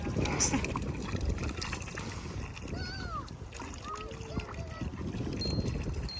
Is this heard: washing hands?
yes